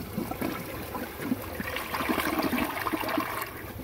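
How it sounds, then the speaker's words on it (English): A 2007 Gerber Allerton toilet flushes with a steady rushing, gurgling swirl of water that stays loud and close for the whole stretch, with no voices over it. "after this, I'll do a waterline flush"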